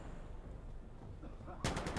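Gunfire in Insurgency Sandstorm: a quiet stretch of low background ambience breaks into a sudden close burst of rapid, sharp automatic shots near the end.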